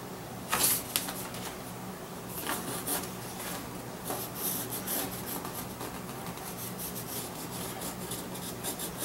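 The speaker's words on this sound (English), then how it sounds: "trace this leather out with a pencil, I have to rub it pretty good" Pencil rubbing and scratching across firm leather in repeated strokes, tracing a pattern, close and quiet, with no voices.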